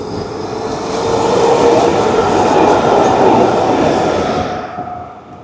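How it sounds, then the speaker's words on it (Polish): An old tram passes along a Budapest street, a loud steady rumble of wheels on rail that swells, holds for several seconds, then fades as it moves away, with no voices. "W Budapeszcie ciągle jeżdżą stare tramwaje,"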